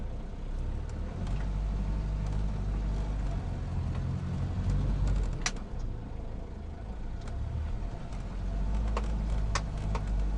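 A 4x4 off-road vehicle drives along ruts left by quad bikes, its engine a steady, close mid-pitched drone with a deep rumble that holds for the whole stretch, rising slightly in places.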